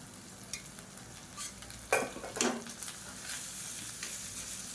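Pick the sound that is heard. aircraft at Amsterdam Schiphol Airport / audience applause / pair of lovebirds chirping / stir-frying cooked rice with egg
stir-frying cooked rice with egg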